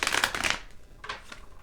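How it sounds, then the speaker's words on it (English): Tarot cards are shuffled by hand, a loud burst of rapid papery riffling for about half a second, then a couple of softer, shorter shuffles. "I'm going to shuffle these a bit more. They're a little stuck."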